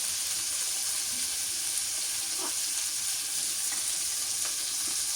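Garlic paste and salt fry in a pan with a loud, constant sizzle, marked by a few faint stirring scrapes.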